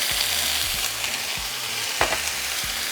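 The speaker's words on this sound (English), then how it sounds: "Once hot, we're going to add our potatoes." Potatoes frying in hot oil in a pan for homemade gorditas with chorizo, a continuous loud sizzle with occasional stirring scrapes and pops, no voices.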